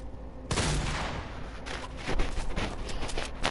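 Shotgun fire in a video game comes as a sudden loud blast followed by a burst of rapid gunfire and booming reports, dense and close, with no talking.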